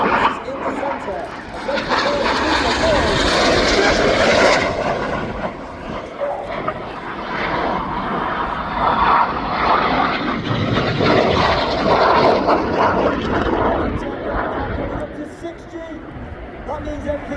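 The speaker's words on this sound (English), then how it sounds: "Each jet lap performs a barrel roll." Red Arrows BAE Hawk T Mk2 jets roaring through a barrel roll at an airshow display, a loud sustained jet roar swelling and fading, with a commentator talking over it and a dog barking.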